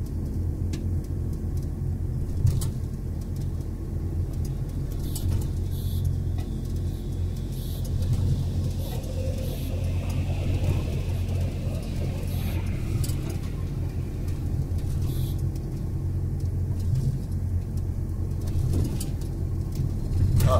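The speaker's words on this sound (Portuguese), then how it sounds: "Descendo aqui sem usar freio de pedal, tô só no freio motor, segundo estágio acionado, viu?" A Mercedes truck descends a mountain highway on its engine brake in second stage, giving a steady, loud low rumble and drone that holds evenly from start to finish.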